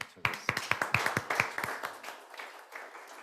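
A short burst of hand clapping from a small conference audience, sharp claps in a quick uneven rhythm that fade out after a couple of seconds.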